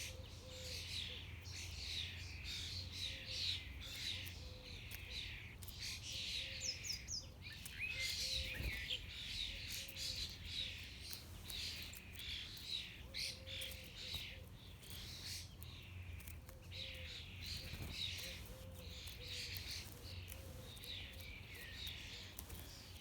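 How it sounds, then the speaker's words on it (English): Starlings and their demanding fledglings call in a garden, with a steady stream of soft chirps, whistles and squeaky begging notes. The calls are fairly faint and continuous, and a quiet background hum sits underneath. "A lot of the starlings around our garden at the minute have got fledglings, and boy oh boy are they demanding."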